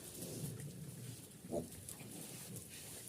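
Low, soft grunting of pigs, faint and close, with a snuffling grunt standing out midway over quiet background noise.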